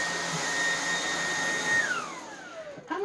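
A vacuum cleaner runs on carpet with a steady, close whine and airflow roar, marked by a high tonal hum that drops in pitch as the motor winds down near the end.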